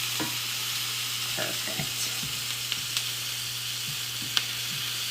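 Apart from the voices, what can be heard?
steak browning in a hot pan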